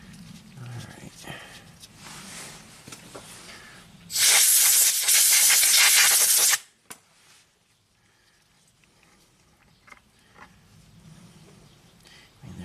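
Compressed air blasting debris out of an abandoned Audi turbo engine bay, one loud, steady hiss lasting about two and a half seconds and then cutting off abruptly, with quiet workshop noise before and after.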